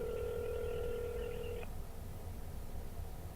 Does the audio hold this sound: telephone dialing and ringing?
yes